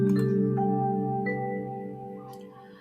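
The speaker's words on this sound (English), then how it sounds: "A bell will be played when you are in your 7th minute and only 1 minute left in the presentation." A bell signalling one minute left in an online APSA 2020 conference presentation gives a single sustained ringing tone that slowly fades over about three seconds, heard alone without talk.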